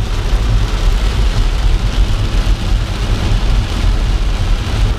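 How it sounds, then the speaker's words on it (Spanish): Heavy rain pounding on a car while driving home, a loud, dense, unbroken hiss with deep rumbling underneath, steady for the whole stretch with no voices. "empezó a llover otra vez fuertísimo."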